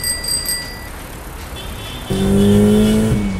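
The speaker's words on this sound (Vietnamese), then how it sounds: "Nhiều xe cộ quá, đợi đèn báo hiệu đã." Busy road traffic at a crossing in a toy-figure play scene, with a steady motor drone that swells into a louder, closer engine rumble partway through, as if a car is driving past.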